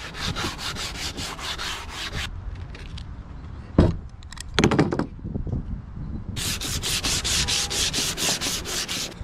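Someone sands a plastic Honda CRX rear bumper with 100-grit sandpaper in quick rhythmic strokes. The sanding pauses midway for a few knocks and clunks, then resumes steadily and up close.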